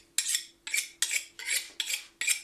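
A knife is drawn along a honing steel before cutting a homemade cake, six crisp metallic swipes in an even rhythm, each a bright rasp that fades quickly, close and clear with no talking.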